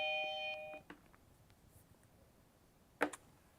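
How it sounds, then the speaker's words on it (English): A Eufy HomeBase doorbell chime plays a short tonal ring in a quiet room. It is followed by faint clicks and one sharp click near the end. "So this does act as a doorbell chime."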